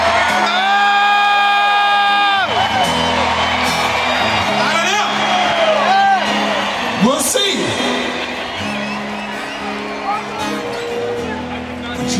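A huge stadium crowd at a rock concert at Fenway Park cheers and whoops loudly and continuously, with sustained yells and roars filling the open-air space.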